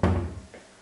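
A kitchen cupboard door in an apartment kitchen, stocked with plates and glasses, opens or shuts with a single close thump followed by a quieter knock and fading room tone.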